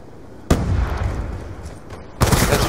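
Call of Duty Black Ops 2 game combat: a sharp grenade blast followed by a rumbling tail, then a second burst of gunfire near the end, loud and close.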